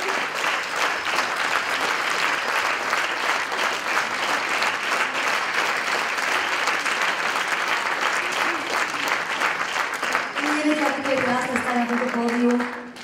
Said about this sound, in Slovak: Počúvať váš potlesk naozaj dojímavé